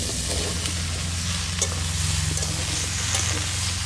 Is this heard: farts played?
no